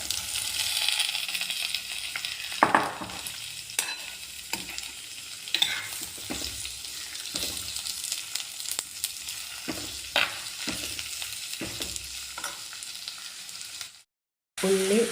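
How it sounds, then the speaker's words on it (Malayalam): Onions sautéing in hot coconut oil, a steady near sizzle with intermittent spatula scrapes and taps against the pan, running continuously before a brief silence near the end, no talking. "ഉള്ളി വഴറ്റിക്കൊണ്ടിരിക്കുകയാണ്."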